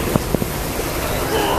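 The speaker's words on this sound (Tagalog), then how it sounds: "Ngayon, ang lakas ng alon, oh." Strong waves at a beach during summer swimming make a loud, continuous roaring wash, buffeted by heavy wind noise on the microphone, with a person speaking over it.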